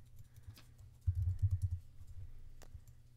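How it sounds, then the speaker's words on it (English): Quick burst of keystrokes on a computer keyboard, a short run of soft clicks close by with a few scattered taps before and after, in an otherwise quiet room. "we're gonna type out row in all caps"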